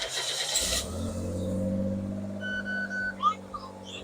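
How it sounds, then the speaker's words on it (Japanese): A Suzuki Wagon R MH21S engine cranks and catches, then settles into a steady idle with a raspy exhaust leak from a cracked catalytic converter, heard up close with a few faint background chirps. "これエンジンかけると、"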